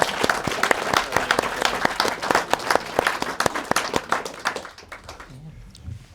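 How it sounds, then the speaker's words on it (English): An audience claps loudly in dense, sustained applause that thins out and fades near the end, with a few voices underneath. "Big round of applause for him."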